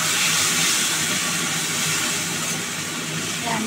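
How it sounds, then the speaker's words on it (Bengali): Water is splashed into spice paste frying in hot oil over high heat, setting off a loud, dense, continuous hissing sizzle close up that barely eases over a few seconds. "এবার অল্প একটু জল দিচ্ছি কষাবার জন্য।"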